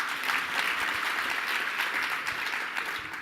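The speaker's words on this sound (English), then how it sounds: "give yourself a round of applause" A conference audience claps steadily throughout, a dense wash of many hands applauding at an even level.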